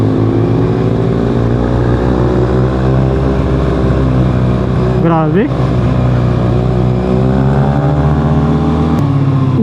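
A Kawasaki motorcycle engine is held at high revs, loud and close with strong steady harmonics and a brief pitch dip mid-way, while a man exclaims briefly over it.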